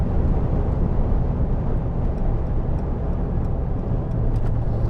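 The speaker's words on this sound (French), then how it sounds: "Là, je suis à 170 km/h dans un pick-up." Brabus XLP 900, a 900-horsepower, 3-tonne pickup truck, cruising at 170 km/h, heard as a loud, steady roar of wind and road noise with a low engine drone, continuous and without speech.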